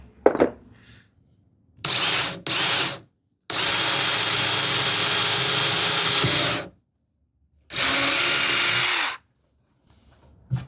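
A power drill bores a small pilot hole in wood in a handmade cupboard build, whirring in several close, loud bursts of one to three seconds separated by silence.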